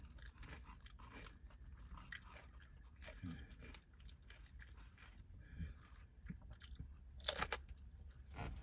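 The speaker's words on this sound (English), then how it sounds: "Let me try these chips. They got the little chips and the cheese." Crunchy little chips with cheese being eaten up close: irregular crunches and chewing, with a few sharper bites toward the end, fairly quiet against a low background hum.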